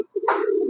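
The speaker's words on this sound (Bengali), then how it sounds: "বাজারে এই জনপ্রিয় কবুতরটি" A king pigeon, a popular fancy breed offered for sale in pairs in Bangladesh, gives a single short, low throaty coo, close and clear with no talking over it.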